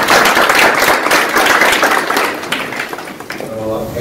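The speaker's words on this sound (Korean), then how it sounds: "박수로 환영합니다" Audience members at a content-industry policy forum clap to welcome a panelist. The dense applause is loud at first, then thins and fades as a voice begins near the end.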